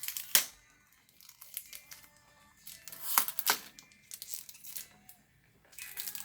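Packaging of a Hello Kitty x Zara perfume being torn open by hand, with several sharp tearing and crinkling bursts separated by quiet pauses, close to the microphone with no talking.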